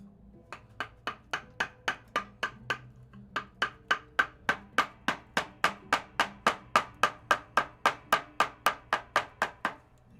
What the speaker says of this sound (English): I'll cut these shavings off.